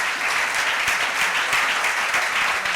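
A church congregation claps in sustained, dense applause that holds steady throughout, loud and even, with no pause.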